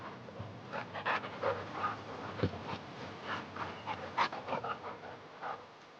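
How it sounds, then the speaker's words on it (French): A dog pants rapidly and steadily up close, with quick breathy bursts and a few soft snorts over a quiet background. "Bon chien, bon chien, bon chien!"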